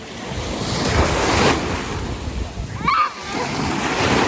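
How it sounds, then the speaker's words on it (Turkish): Sea waves surge and wash steadily on a windy day, with wind buffeting the microphone throughout and a brief splash near the end, loud and close. "dalgalar çok güzel."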